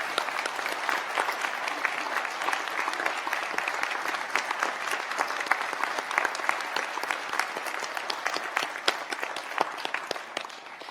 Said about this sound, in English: I wonder if everybody would now please join me in applauding the wonderful achievements of these graduates.